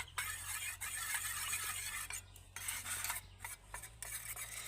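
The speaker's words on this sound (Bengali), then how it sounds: "এবার আমি তিনটে কালার একসাথে মিশিয়ে নেব এইভাবে" Three food colours stirred together in a small bowl with a spoon: soft, quiet scraping and swishing strokes with brief gaps between, close up and faint, with no talk.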